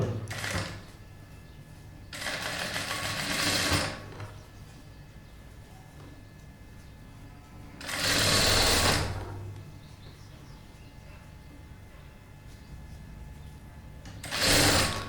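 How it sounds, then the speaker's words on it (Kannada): A sewing machine stitches a fabric frill onto elastic in short runs, three loud bursts of rapid whirring separated by quiet pauses, close up with a steady low hum between. "ಈ ಕಡೆ ಸೈಡ್ ಮಿಕ್ಕಿರುವಂಥ ಕ್ಲಾತ್ನ ಮತ್ತೆ ನೀಟಾಗಿ ಫೋಲ್ಡಿಂಗ್ ಮಾಡ್ಕೊಳ್ತಾ ಸ್ಟಿಚಿಂಗ್ ಮಾಡ್ಕೊಳ್ತಾ ಬರಬೇಕು"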